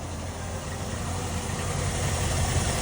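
A 1975 Ford E100 van engine idles steadily after a hard start, with a low, even rumble that stays close and unbroken.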